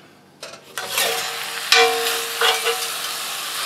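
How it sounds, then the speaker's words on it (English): Pork pieces hit a hot cast iron roaster and burst into loud, close sizzling that swells and crackles, with a metallic clank of a utensil partway through and steady frying continuing after. "you can hear that sizzling because the roaster is already nice and hot"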